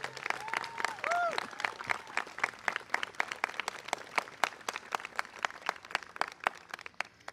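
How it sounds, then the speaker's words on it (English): A graduation crowd claps for parents and families, a fairly sparse, crisp applause with distinct individual claps, while a brief whistle or voice rises over it near the start. "let's give your parents and families a big round of applause"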